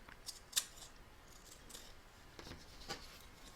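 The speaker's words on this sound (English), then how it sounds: "You want to make sure that you've cut the excess off close to that stitch line there" Close scissors trim excess fabric near a stitch line on a doll embroidery project, giving a few quiet, crisp snips spaced apart over a faint background hiss.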